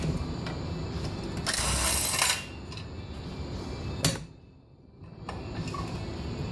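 Close mechanical clicking and rasping from a ratchet wrench working muffler bolts loose on a 5 hp Briggs and Stratton engine, with a louder sustained burst and a sharp clack before a brief quiet gap.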